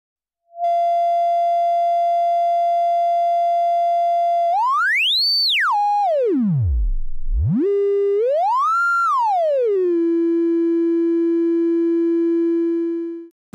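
A Bastl Cinnamon oscillator module's filter, self-oscillating at full resonance, produces a loud, pure sine tone that holds steady, sweeps up high, plunges very low, rises again, then settles on a lower steady pitch, alone and unaccompanied.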